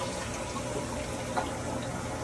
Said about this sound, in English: The toilet flushes.